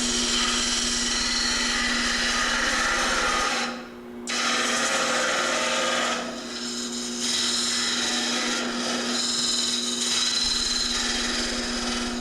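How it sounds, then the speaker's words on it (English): A chisel pares and cleans up the end grain of a handmade wooden box, a loud, steady, close scraping rasp that pauses briefly twice, with no talking. "Now, we can take the chisel and just clean it up like this."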